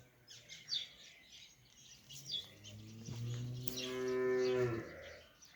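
A gray Ala-Too dairy cow that gives 17–18 litres of milk a day lets out one long, loud, close moo rising over quiet farmyard background with faint bird chirps.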